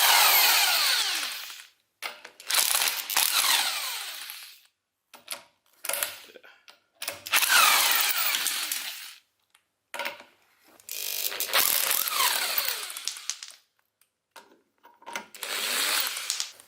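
Bursts of a ratcheting power tool spinning lug nuts off a jacked-up Ford Fiesta MK6 fitted with drum brakes, several loud close whirring runs separated by short pauses.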